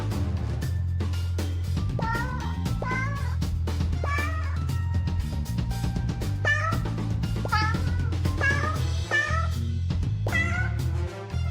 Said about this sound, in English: that was the Yohei cat right there